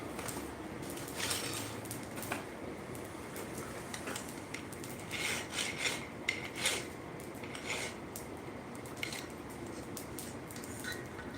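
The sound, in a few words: hot filing a forged steel mouse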